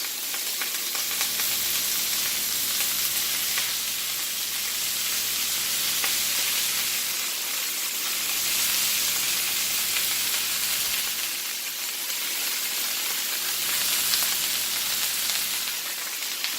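Tomato strips sauté in a pan, giving a steady, bright, hissing sizzle that holds evenly close up for the whole stretch, with faint stirring and no talk.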